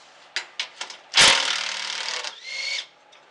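A Hitachi power drill drives screws on a 1978 Gilson snowblower. A few short clicks and taps lead into a loud whirring burst, then a second, quieter run of the motor, all close by.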